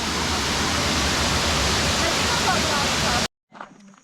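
The Cachoeira Santa Bárbara waterfall in Chapada dos Veadeiros roars as a loud, dense, continuous rush of falling water, close by, before cutting off abruptly to quieter ambience.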